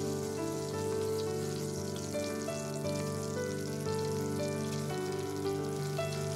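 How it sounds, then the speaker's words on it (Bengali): Prawns frying in oil in a pan for a prawn masala curry, a steady dense sizzle with crackling spatters continuing throughout under a faint tonal hum, close and even in loudness, with no talking. "এই সেম তেলেই আমি বাকি চিংড়িটাও ভেজে নেব।"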